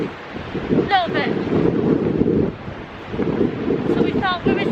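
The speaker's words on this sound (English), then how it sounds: "It's a bit windy." Strong gusting wind buffets the microphone on Blackpool's Central Pier, a loud, rumbling roar that rises and falls in waves, with faint seaside bird cries above it and a voice talking over it.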